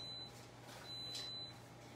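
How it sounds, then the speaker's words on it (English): An egg cooker timer in a kitchen gives a faint series of thin electronic beeps, several short tones in a regular pattern heard from across the room over a low steady hum. "I hear the eggs beeping over there"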